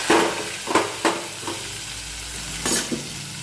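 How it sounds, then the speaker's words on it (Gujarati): Bottle gourd pieces land in hot oil and get stirred, a steady sizzle punctuated by several sharp scraping strokes of a spatula against the pan, close and fairly loud with no talking. "જો તેલ આવી ગયું છે અને જો દૂધી હવે નાખી"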